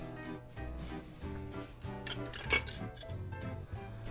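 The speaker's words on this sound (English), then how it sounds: "we're gonna give her a good stir" A spoon stirs a Tom Collins cocktail in a glass, giving quiet, repeated clinks and scrapes against the glass in an uneven rhythm, faint and close up with a low background hum.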